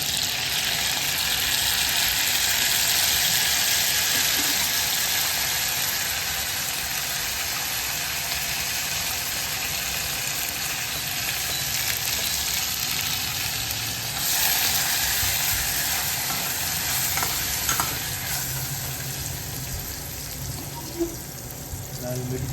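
Mustard seeds and garlic fry in hot oil for a dal dish, a steady hissing sizzle throughout with faint crackles and soft background noise.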